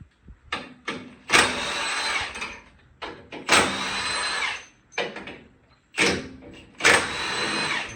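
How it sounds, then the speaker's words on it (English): A power tool with a 15 mm socket zips bolts off a Ford Bronco bumper in several short bursts, each one a loud whirring spin-up with pauses in between. "Then you'll go ahead and get a 15 millimeter. And pull these bolts off."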